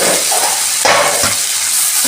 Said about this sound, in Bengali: আলুটা দিয়ে ভালো করে কষে নেব।